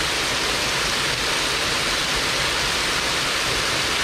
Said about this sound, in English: You can come behind the waterfall.